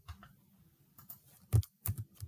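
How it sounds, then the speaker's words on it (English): Typing on a computer keyboard while plotting graph axes, with scattered soft key taps building to a few louder, sharper clacks near the end; no speech. "So you're going to have to do a little bit of typing here."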